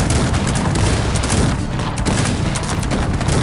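Dense volleys of cannon fire from many artillery pieces in the strategy game Cossacks 3, rapid overlapping booms forming a continuous loud barrage with no break.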